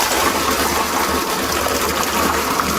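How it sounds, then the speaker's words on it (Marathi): Liquid mix of desi cow dung, cow urine, lime and soil poured into a barrel holding about 20 litres of water, a steady, dense, continuous gushing splash close by that stays loud throughout with no talk. "आता हे मिश्रण केलेलं आपण ओततोय"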